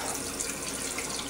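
Water runs steadily from a kitchen sink sprayer set to a rinsing flow, a continuous close hiss of spray with no talk over it.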